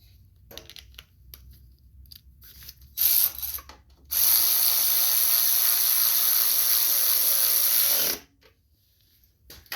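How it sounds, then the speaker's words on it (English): Ratcheting tool turning a bolt on the carburetor of a 2000 Toro push mower, with brief bursts of clicking followed by a steady, loud, close run of ratchet clicks lasting several seconds, then quiet. "So we're going to go ahead and get this bolt started in there."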